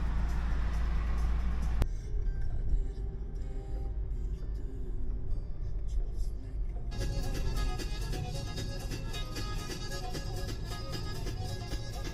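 A car driving on a road in Bolu, Turkey, on the way to Çepni plateau: a continuous low engine and road rumble that is steady throughout, joined partway by a brighter layered sound.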